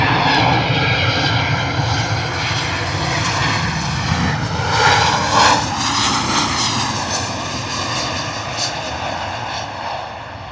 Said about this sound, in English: Ryanair coming in true Ryanair style. Wallop! Absolutely planting that down on runway 27.